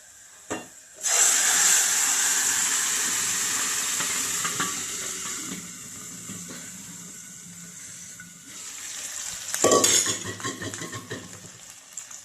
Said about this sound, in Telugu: ఇది ఎర్రగా వేగిన తర్వాత పప్పు వేసుకున్నాము.